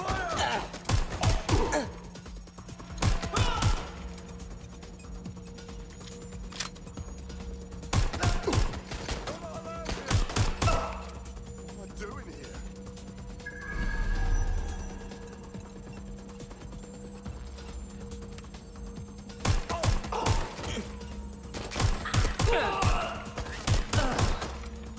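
Bursts of gunfire from the video game Watch Dogs: Legion, recurring in sharp clusters throughout, with a voice talking between the shots.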